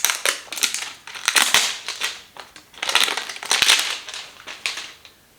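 Cardboard packaging box for a fragrance-free cleanser being opened, with loud continuous crinkling, tearing and rustling in bursts, close up with no talk.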